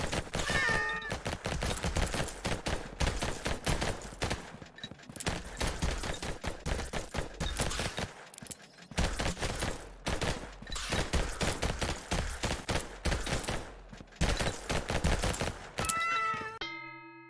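A familiar cat meowing in the Vampire Hunters video game, short meow calls heard amid dense, rapid gunfire bursts that dominate throughout, with brief pauses between volleys.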